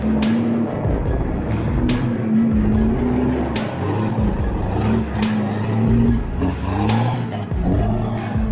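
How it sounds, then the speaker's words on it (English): Engines of off-road trucks and a modified tractor roar steadily in thick swamp mud, loud and close, with surging revs and sharp bursts of tire noise throughout. "The roar of the engine tore apart the silence of the desolate swamp"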